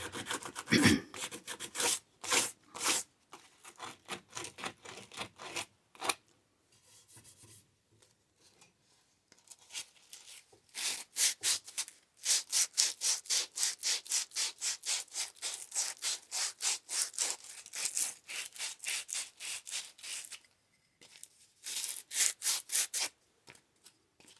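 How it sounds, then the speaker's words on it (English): Hand sanding wood with sandpaper while refinishing a thrift-store piece, rhythmic back-and-forth rasping strokes in quick bursts with short pauses between, close and fairly crisp, no talking. "Can't sand on the wrong side of the paper."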